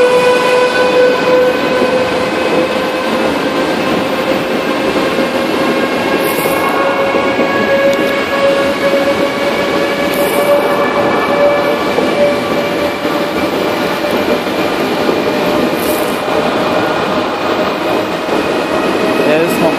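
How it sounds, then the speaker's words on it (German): DB class 407 ICE Velaro D high-speed train passing close, a loud continuous roar with a steady whine, with no pause over the full twenty seconds. "Und hier kommt der neue ICE."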